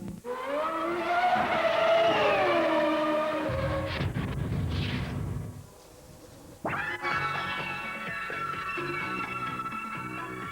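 Race car engines rev and whine at a Eurosport Super Racing Weekend round at Circuit de Nevers Magny-Cours, with a sweeping pitch, a short rough burst, a brief dip, then a fresh sharp rise that holds.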